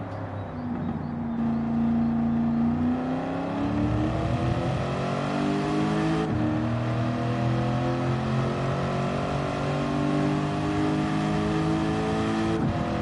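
Truck in Gran Turismo 7 roars continuously as its engine revs up and down through gear changes, a loud sustained drone with shifting pitch and no talking.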